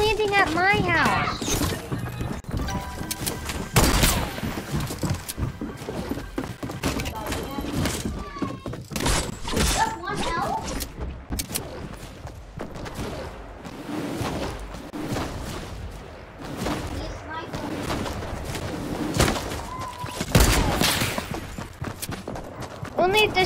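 Gunfire in the video game Fortnite: bursts of shots and impacts mixed with game effects, with a player talking over much of it.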